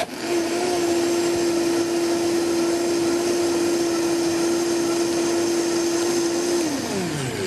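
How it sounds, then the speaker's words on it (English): A high-powered blender whirls a coconut panna cotta mixture, a loud steady motor roar with a constant whine held for about six seconds before it winds down at the end, with no talking. "And then we're just going to whirl that, so hang with me. This is going to be really noisy for about 10-15 seconds."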